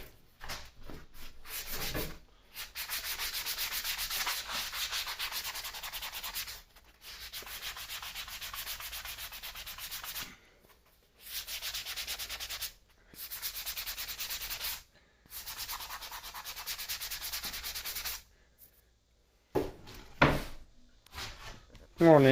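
A vintage children's wooden rocking chair being sanded smooth by hand, with bursts of steady rubbing and scraping separated by brief pauses, close up, plus a few knocks near the end.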